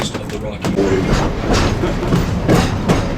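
The 1880 Train runs on rails through Keystone in the Black Hills of South Dakota, giving a steady rumbling roll with clacking wheel beats and occasional sharp knocks, moderately loud and continuous.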